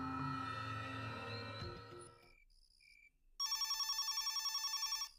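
A telephone ringtone sounds in a Bengali village ghost-story drama: a steady run of electronic ring pulses enters after a stretch of music and quiet, loud and near, with no one speaking over it.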